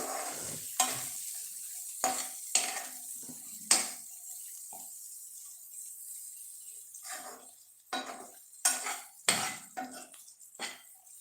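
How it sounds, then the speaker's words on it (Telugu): Spices frying and being stirred in a pan while making tomato rice, with intermittent scraping and clinking strokes of a spoon against the pan over a soft sizzle, irregular and close. "ఒక టూ మినిట్స్ దీన్ని మనం ఫ్రై చేసుకొని"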